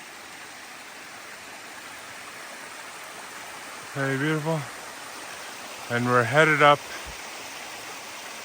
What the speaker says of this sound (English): We're following this creek.